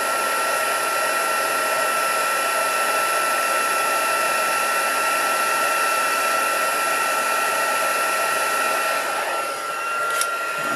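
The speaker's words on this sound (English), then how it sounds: "while my gun is still hot, always a good moment to go in and do the next bit of embossing" A heat gun used for embossing blows with a constant loud airy whir and a steady motor hum, running without pause before a small click near the end.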